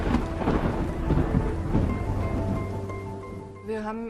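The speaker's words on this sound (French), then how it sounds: "Et soudain, l'orage éclate." Thunderstorm breaking over an airport as the last planes line up for takeoff: a continuous, dense roar of heavy rain with deep rumbling thunder underneath, steady and loud throughout, easing slightly near the end.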